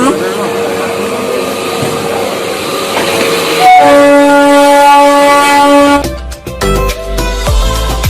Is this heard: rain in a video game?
no